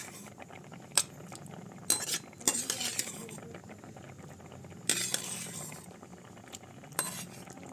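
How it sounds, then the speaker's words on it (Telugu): Pasta is added to a cooking pot for a village-style gongura pasta curry and stirred, giving a quiet background with several sharp clinks and scrapes of utensils against the pot at irregular intervals. "ఇప్పుడు పాస్తానే వేస్తున్నానండి. ఒక ఉడికి ఉడకాలండి పాస్తాని."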